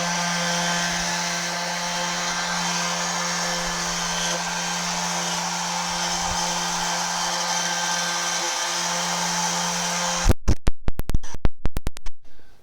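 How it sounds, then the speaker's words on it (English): A power sander runs steadily for about ten seconds as wood edges are softened, a constant close whine, then switches off into a quick series of sharp clacks and knocks. "Now we'll use the sander to soften the edges."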